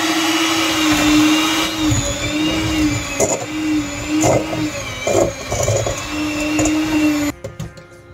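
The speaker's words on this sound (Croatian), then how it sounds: "sada možemo da pređemo na mikser" An electric mixer whirs steadily at close range beating butter and sugar, its motor pitch wavering slightly as the beaters work, then cuts off near the end.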